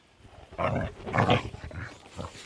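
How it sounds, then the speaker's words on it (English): A young Huntaway working dog in a stockyard gives a few deep, powerful barks close by, rough and growling in tone, with no talk over them. "They're well known for their powerful bark and help in the stockyards."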